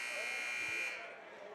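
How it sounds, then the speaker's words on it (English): A loud, steady electronic buzzer sounds in a high-school varsity basketball gym, holding for nearly a second before cutting off and leaving murmuring crowd noise beneath. "As you will hear the buzzer hit shortly"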